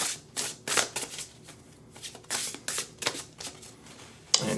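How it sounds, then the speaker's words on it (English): Oracle cards are shuffled by hand in a series of quick, crisp riffles and rustling flicks, close and fairly quiet, with short pauses between bursts and a sharp tap near the end. "So let's go ahead and shuffle. And we're going to throw just one card."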